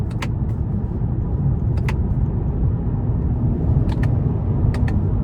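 A 2025 Toyota Camry SE with its 225 hp hybrid engine cruises on a test drive, heard from inside as a steady low road and engine rumble, with a few faint clicks on top.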